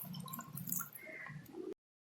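Dissolved tamarind water pours into a pan of spicy elephant-foot yam curry, a close, quiet trickling and dripping splash that stops abruptly.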